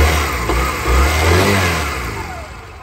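A Honda CD125 motorcycle with an original engine runs close by, its motor revving up and easing back in a short loud burst over a steady low idle rumble.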